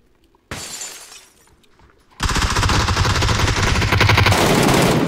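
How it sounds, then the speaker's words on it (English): Glass shatters loudly as a window is smashed in a multiplayer shooter game, followed by a sustained, dense burst of crashing and gunfire-like noise that fills the rest of the moment. "he smashed the window, opened the door"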